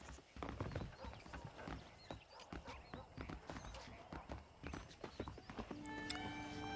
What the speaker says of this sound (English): So we are going horse riding.